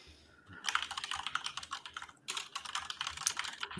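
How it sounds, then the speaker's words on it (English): Rapid, furious typing on a computer keyboard, with bursts of close, crisp keystrokes separated by a brief pause and no talking. "furiously typing keys"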